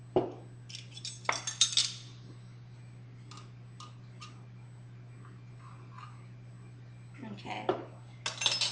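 Small heart-shaped metal teaspoons clinking and tapping against containers while baking powder is measured for snickerdoodles, a few light clicks and chinks early on, then a quiet stretch and more clatter near the end.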